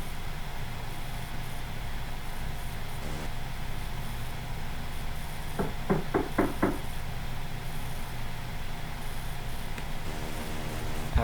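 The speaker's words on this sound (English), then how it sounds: "multiple police officers knocked on his door to see if Lee was in there." Police officers knock on a door, a short series of about five firm, evenly spaced raps heard mid-clip through a steady hiss of background noise.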